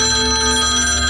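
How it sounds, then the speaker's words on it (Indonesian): A telephone rings loudly and steadily at night, a sustained electronic ring with bright tonal layers filling the whole short span, with no voices. "Suara telepon itu terdengar nyaring"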